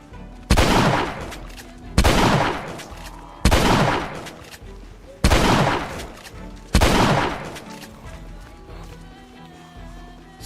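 Gunfire in the zombie survival game Project Zomboid rings out as five loud, separate shots about a second and a half apart, each followed by a long echoing decay.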